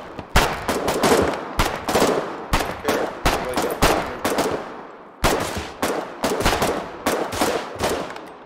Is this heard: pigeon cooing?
no